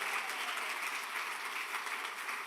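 A church congregation applauds during a Sunday morning service, a steady, fairly distant wash of clapping that holds level throughout without voices breaking through.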